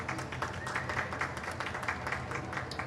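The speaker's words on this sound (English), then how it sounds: "Please give her a round of applause." A small audience at a biodiversity and soil event gives a modest round of applause, a light patter of clapping held close and steady.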